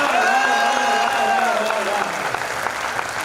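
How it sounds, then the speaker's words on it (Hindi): Audience at a Hindi kavi sammelan poetry recital breaks into dense, sustained applause, a loud wash of clapping from a large crowd that continues throughout. "ईमानदार देशभक्त लोग ताली बजाए"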